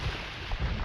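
Demolition ship explosions in an Age of Empires 2 battle, a dense overlapping run of loud booming blasts with a low rumbling body, the heaviest thump near the end.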